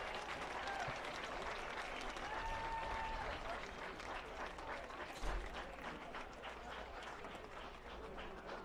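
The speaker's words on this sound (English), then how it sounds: "Fans, how about another round of applause for these student athletes?" Applause from football fans in the stands at a Bridgewater College home game against Randolph-Macon, steady sustained clapping and crowd noise lasting throughout, with a brief louder burst midway.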